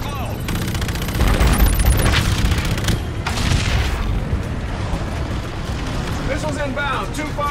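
Missile strikes and explosions pound a ship in the game Call of Duty Infinite Warfare, heavy booms and rumbling blasts with crackling debris, loud and dense, under radio voices talking.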